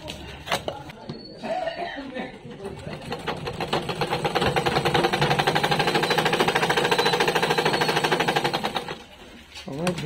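A tailor's sewing machine runs in a fast, steady mechanical chatter that builds and holds for several seconds before stopping, close up. A person talks briefly before it starts.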